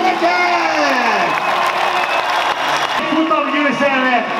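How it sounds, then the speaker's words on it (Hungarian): An arena crowd at a race event claps and cheers in a sustained wash of applause, with an excited commentator talking loudly over it throughout. "Óriás tapsol Zsigovits Norbinak, gyerekek!"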